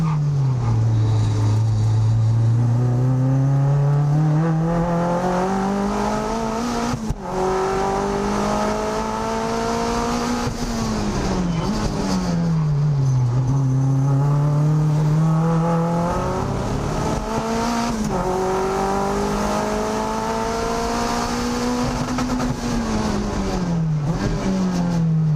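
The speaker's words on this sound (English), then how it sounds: "we're still pushing full pace pretty much." Mazda MX-5 race car pushing at full pace on a track, its engine note rising through the revs and dropping sharply at each upshift in a repeating cycle, loud and continuous from onboard.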